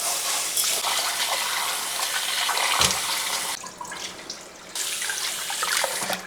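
About half a kilo of long-grain biryani rice is washed in a bowl under running tap water: a steady rushing splash with brief dips and swells as the water is swirled, and no talking.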